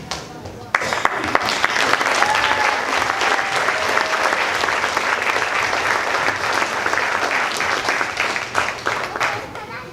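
Audience applause for new black belts at a karate show, loud steady clapping from a large crowd lasting nearly ten seconds after a sharp start, with a little talk mixed in.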